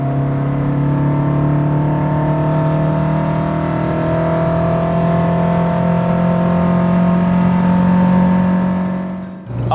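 Sigma car engine droning steadily while driving, a loud continuous low hum with slowly rising and falling pitch heard from inside the cabin, easing off at the very end.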